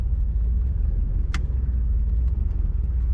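A 1954 Oldsmobile 98 Starfire convertible cruising with the top down, a steady low engine and road rumble heard from inside the open car, continuous and fairly loud, with no voices.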